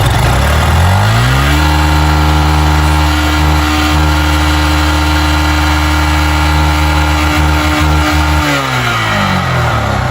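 A car engine with an unusual internal noise revs up, holds a high, loud, steady drone for several seconds, then drops back toward idle, close to the listener with no talking.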